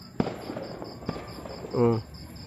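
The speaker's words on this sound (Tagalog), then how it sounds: "Firework display yan daw pala sa bayan." A town fireworks display on December 1 in Tayabas, Quezon, with a couple of sharp distant bangs over a quiet outdoor background, and a person's voice briefly heard between the bursts.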